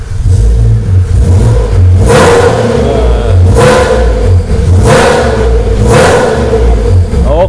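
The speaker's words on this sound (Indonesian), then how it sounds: "di sini dia udah ganti knalpot full system exhaust. Suaranya kayak gimana" A BMW E46 with a full-system aftermarket exhaust revs repeatedly over a steady idle, with four loud, rising blips spaced a second or two apart, recorded up close.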